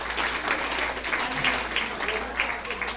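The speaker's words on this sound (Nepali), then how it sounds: "ताली बजाइदिनुहोस्।" Wedding guests applauding at a Nepali ceremony after the bride pledges to stay with the groom for life, a dense, continuous patter of clapping across the room with a faint low hum beneath and scattered murmuring voices.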